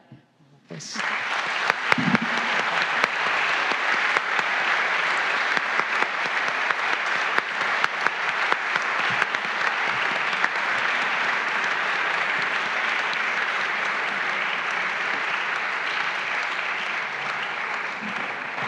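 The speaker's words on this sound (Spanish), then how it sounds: "el aplauso ha sido el mejor agradecimiento" Sustained audience applause at a university talk on the situation in Palestina after a ceasefire announcement, starting abruptly and holding dense and even for nearly twenty seconds.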